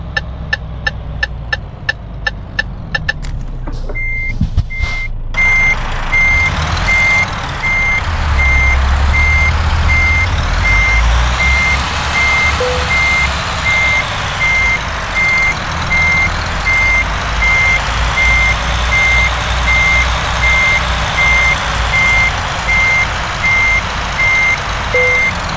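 A Renault Premium 380 truck reverses a trailer, with a steady series of loud, evenly spaced reversing beeps over a low, rumbling diesel engine that swells as the rig moves.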